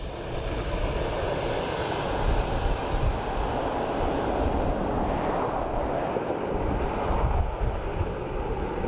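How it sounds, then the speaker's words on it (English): WestJet airliner arriving from Toronto at Dublin Airport, landing with reverse thrusters open on the engines: a loud, sustained broadband jet roar that holds steady and heavy throughout, heard from nearby with no talk. "you can see the reverse thrusters there on the engine open"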